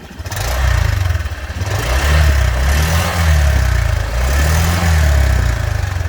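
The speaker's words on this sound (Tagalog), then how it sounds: "ito yung tunog ng stock na pipe ng Honda Click" A Honda Click 125 V3 scooter engine with a stock exhaust runs close by, its low steady drone rising and falling in a few gentle revs.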